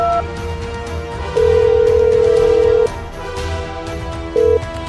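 Telephone ringback tone after a call is placed, heard as a long steady electronic tone followed by a short repeat, loud and alone with no talking.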